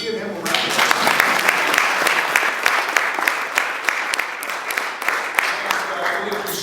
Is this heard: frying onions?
no